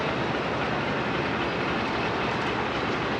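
The Sialkot Express, a six-coach passenger train on the Lahore to Sialkot line, rolls along the rails in heavy rain with a steady, loud broadband roar and faint clatter of wheels, heard from close by without talk.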